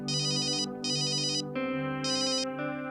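An electronic phone ringtone plays a loud, steady melodic tone with repeating bright buzzy pulses.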